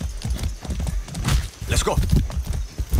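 Horse hooves clip-clop at a walking pace in the video game Far Cry 6, with a brief whinny and someone talking over the hoofbeats.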